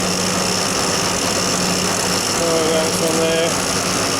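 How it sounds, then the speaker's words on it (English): A faulty compressor that draws almost no current runs with an odd, funny noise, giving a steady mechanical hum and whine with a brief squealing tone in the middle, while someone talks over it. "turn this compressor, it's making a funny noise"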